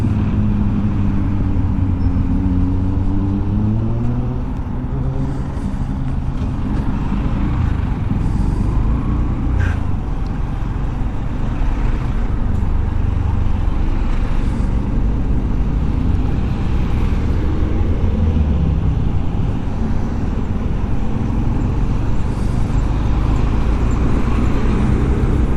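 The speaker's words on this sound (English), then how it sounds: "A lot of traffic." Heavy road traffic near the Dartford crossing rumbles steadily from a motorbike, a dense continuous roar of engines and tyres with no speech over it.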